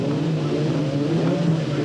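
BTCC touring cars, including Ford Sierra Cosworths, roaring off the line at the race start at Donington, a dense, loud wall of many engines revving hard together with no pauses.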